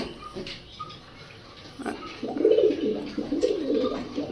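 Several pigeons, among them hens of the Kamagar and Saharanpuri breeds, coo in low rolling bursts at a loft, rising louder and steadier toward the end.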